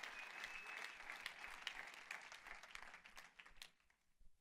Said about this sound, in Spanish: Dele un fuerte aplauso al Rey de la Gloria.